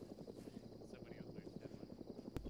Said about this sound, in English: I hear a helicopter.